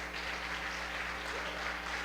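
Applause from a church congregation during a celebration service, a steady, even patter of many hands clapping at a moderate distance, without voices.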